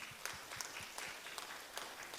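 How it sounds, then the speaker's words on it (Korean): A church congregation applauds during a Saturday worship service, a steady wash of clapping with a few sharper individual claps standing out, moderately quiet and somewhat distant. "하나님께 영광의 박수"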